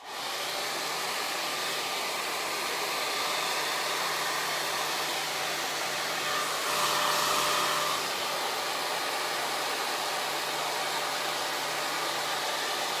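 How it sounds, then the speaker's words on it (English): A handheld blow dryer runs on its highest setting while drying hair, giving a steady, loud airy whoosh and motor whine that swells briefly midway. "running the blow dryer on the highest setting all the way across the hair"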